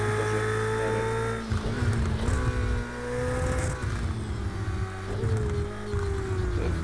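An LMP2 prototype race car's engine in Project Cars 2 at Imola, droning steadily with harmonic whine, shifting pitch through gear changes and revs, loud and close without speech.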